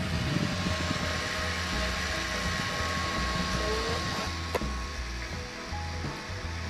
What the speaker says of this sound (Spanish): El ventilador no corta, no me gusta que corte.